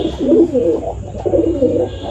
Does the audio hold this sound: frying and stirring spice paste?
no